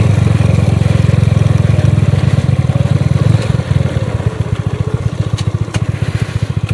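A motorcycle engine runs close and loud while being parked, first a steady idle, then a faster, pulsing chug as the throttle shifts, with no talking over it.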